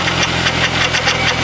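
An E36 BMW engine idles roughly with a whining power steering pump, a steady close mechanical hum with a faint pulsing rhythm and an even tone running throughout.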